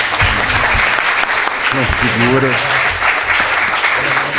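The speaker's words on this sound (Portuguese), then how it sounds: "Primeiro, uma salva de palmas para o homem." Loud sustained applause from an audience at a talk honoring an 87-year-old man, with a voice speaking briefly over the dense clapping partway through.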